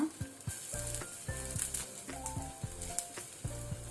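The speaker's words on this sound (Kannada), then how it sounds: "ಜೀರಾ ಸೀಡ್ಸ್ ಹಾಕೊಳ್ಳುವ. ಸ್ವಲ್ಪ ಸ್ಪ್ಲಟ್ಟರ್ ಆಗಲಿ ಅದು." Cumin seeds splutter in hot oil, a steady close sizzle broken by soft, regular pops and stirring sounds, with no voices.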